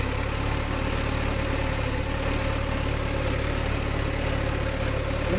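A tractor engine runs steadily while ploughing a field for maize sowing, a continuous loud drone with a low rumble and no talk over it.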